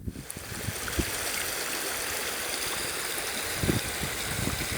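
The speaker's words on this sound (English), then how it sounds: "there is a stream flowing through the desert. Pretty big one too." A sizeable stream flowing through a desert, a steady broadband rush of running water with occasional gurgles and splashes, continuous and fairly close, with no voices.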